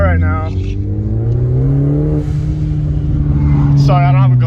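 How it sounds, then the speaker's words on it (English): A Ford Focus ST engine with a Turbosmart blow-off valve hums and rises in pitch as the car accelerates, heard from inside, loud and steady with a voice speaking over it. "So I'm test driving the car right now."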